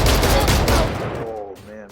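A Guardian rifle shot in the Valorant video game fires in a sharp, loud burst that rings out and decays over about a second, with a faint voice underneath.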